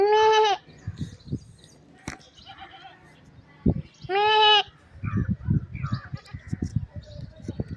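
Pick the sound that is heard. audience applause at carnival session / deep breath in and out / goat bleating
goat bleating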